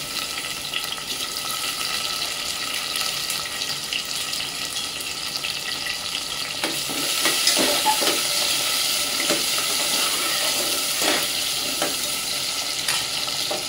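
Onion and tomato frying together in a pan give a soft, steady sizzle, with scattered clinks and scrapes of stirring growing busier partway through.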